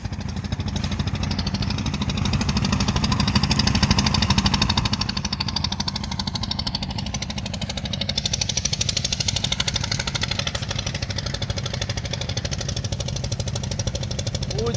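A motor boat engine on a river heard from an embankment, a steady loud chugging drone that holds throughout with no talk.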